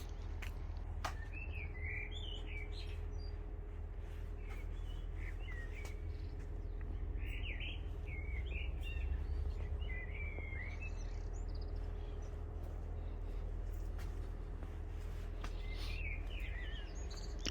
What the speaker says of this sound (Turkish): Kuşlar da ne kadar güzel ötüyor.